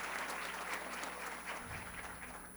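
An audience at the opening of a municipal health conference applauds, a dense, steady wash of clapping heard at moderate distance that keeps going throughout.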